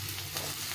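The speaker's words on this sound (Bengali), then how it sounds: "আলুটা একটু ভেজে নিলাম।" Potatoes and ridge gourd fry in a pan, giving a steady, faint sizzle with a low background hum and no talk over it.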